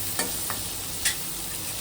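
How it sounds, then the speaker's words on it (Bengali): Chopped onions frying gently in a pan for a catfish curry, a soft steady sizzle broken by a few brief clinks and scrapes of stirring, close and quiet, no talk. "কুচনো পেঁয়াজগুলো এবারে দিয়ে দিচ্ছি। অল্প অল্প ভাজা করে নেব"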